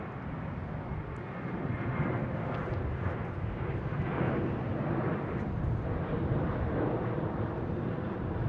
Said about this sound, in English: right now we have American Airlines heading to Chicago,